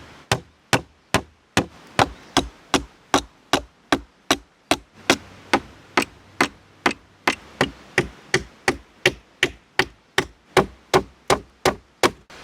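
A hammer drives nails into driftwood boards for a survival shelter and raft, striking in a steady, evenly spaced run of sharp, loud knocks close by. Some thirty blows come one after another with no talk.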